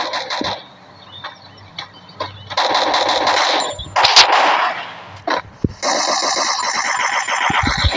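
Rapid bursts of gunfire in a shooting video game, loud and close, crackling in clustered volleys with brief gaps between them.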